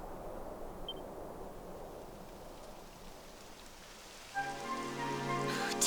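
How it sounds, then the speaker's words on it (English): Steady rain falls in the video game Dragon Quest XI, a soft continuous hiss of drops, before a bright tonal game sound with layered chime-like notes cuts in over it near the end. "It would have to go and start raining, wouldn't it?"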